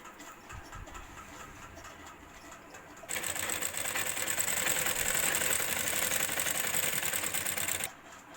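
Sewing machine edge stitching a grocery bag, starting after a quiet stretch and running as a steady fast whirring chatter for about five seconds before stopping, near and alone.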